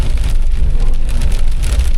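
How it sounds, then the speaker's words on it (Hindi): Heavy downpour drums hard and close on a car's roof and windshield, a loud, dense, continuous hiss with no voices. "बहुत तेज बारिश है"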